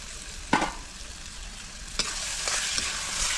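Potatoes go into a pan of cooked masala with capsicum, giving a steady sizzling fry with a few sharp stirring scrapes and clatters, close and moderately loud.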